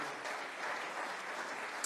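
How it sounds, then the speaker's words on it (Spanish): Dense applause from a church congregation welcoming guests, a soft, even wash of many hands clapping that holds steady throughout. "Las recibimos con un fuerte aplauso a ellas, por favor."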